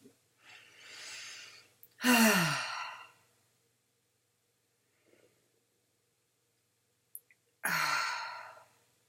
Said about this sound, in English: just take a couple of deep breaths there